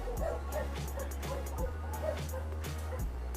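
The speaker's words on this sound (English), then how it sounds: "Excuse my dogs." Several household dogs yip, whimper and bark in a quick, repeated rhythm, fairly faint and indoors, over a low steady background hum.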